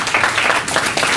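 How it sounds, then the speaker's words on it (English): Warm applause from a conference audience for presenters after a question session, a dense steady wash of many hands clapping at close range, filling the whole short stretch without pause. "would you please give a warm round of applause"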